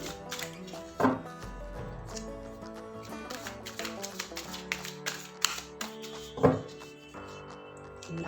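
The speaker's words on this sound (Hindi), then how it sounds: "Last shuffle." Tarot cards shuffled in the hands during a reading, a series of soft papery taps and riffles with a few louder slaps, close and alone over a faint steady hum.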